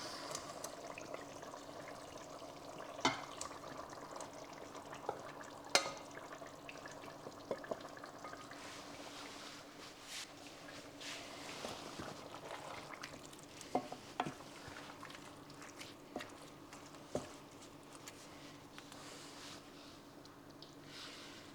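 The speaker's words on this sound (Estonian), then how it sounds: "Paneme liha potti tagasi." Moose meat sizzles steadily and quietly in a hot pot after going back in, with occasional soft clinks and stirring noises and no talking.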